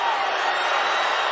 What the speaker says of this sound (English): Crowd in an uproar.